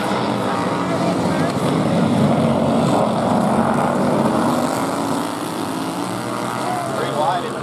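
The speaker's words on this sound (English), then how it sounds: "pro mod mower racing." Pro mod racing lawn mowers roar around a speedway oval during a race, a loud continuous buzzing engine drone with shifting pitch as machines pass, under an announcer calling the action over a loudspeaker.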